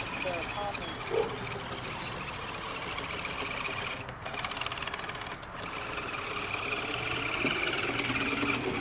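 An Axial SCX10 RC crawler drives with a continuous high electric motor whine and buzzing drivetrain, fairly close, with a couple of brief dropouts and faint voices in the background.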